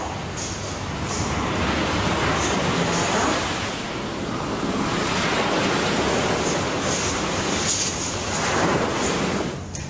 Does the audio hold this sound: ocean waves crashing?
yes